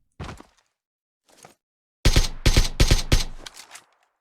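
Suppressed gunfire in the PUBG Mobile video game: one muffled shot, a faint one, then a rapid burst of six or so sharp close shots.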